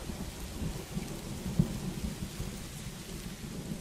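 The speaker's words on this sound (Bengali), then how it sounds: "সেদিন থেকেই বৃষ্টি শুরু হলো।" Steady, heavy rain with rumbling thunder in a Bengali cartoon, one sharper crack of thunder near the middle, no voices over the storm.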